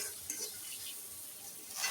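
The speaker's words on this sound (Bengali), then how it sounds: "তারপর একটু নাড়াচাড়া করে পেঁয়াজটা ভেজে নেব" Onion fries in a pan while being stirred, making a faint, soft sizzle with light scraping that swells slightly toward the end, quiet and without voices.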